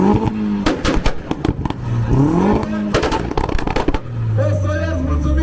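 A modified car's exhaust roars and revs hard at a loudest-exhaust competition at the Cernavoda car show, with sharp crackling bursts and rising revs between steady idle, while people talk and shout nearby.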